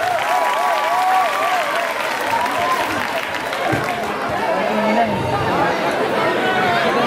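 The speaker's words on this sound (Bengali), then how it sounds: "সবাই একটু হাততালি দেবেন।" An audience applauds at a school golden jubilee function, steady massed clapping mixed with crowd chatter, while a musical tone with a wavering melody drifts through the background.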